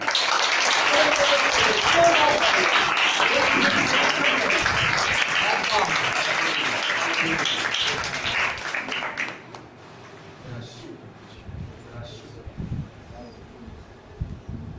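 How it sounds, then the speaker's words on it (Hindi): A church congregation claps loudly and steadily for several seconds, then the applause cuts off abruptly, leaving a quiet room with faint scattered noises. "जोरदार तालियां।"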